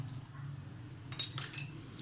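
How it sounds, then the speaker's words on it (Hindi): A metal spoon scrapes spicy masala marinade off chicken pieces, giving two short clinking, scraping bursts near the end over a steady low hum in an otherwise quiet kitchen. "ये मसाले को हम चम्मच से अच्छी तरह से रिमूव कर लेंगे"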